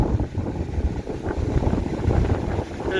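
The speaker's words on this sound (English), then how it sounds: "Pretty windy." Gusts of wind buffet the microphone atop a cloudy mountain summit overlook at Waterrock Knob, a loud, rough, fluctuating low rumble with no speech.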